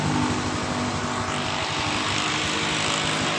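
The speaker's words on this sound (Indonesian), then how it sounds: "motor hidup dengan normal" A Honda BeAT scooter engine idles steadily with a continuous buzzing drone, close and even, with no talking.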